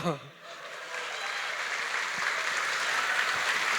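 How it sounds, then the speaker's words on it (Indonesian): An audience at a startup summit breaks into applause after a short vocal sound at the start, the clapping building within a second and holding as a steady, moderately loud crowd wash. "Kasih tepuk tangan dulu"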